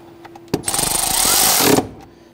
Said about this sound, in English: Go ahead and snug down that bolt.